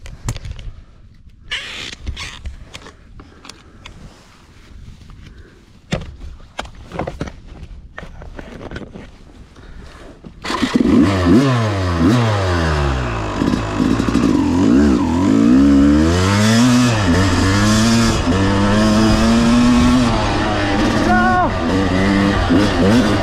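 A Yamaha YZ250 dirt bike on a trail is kicked to life and revved hard, its two-stroke engine rising and falling in loud, close throttle blips after a stretch of quieter footsteps and handling noise.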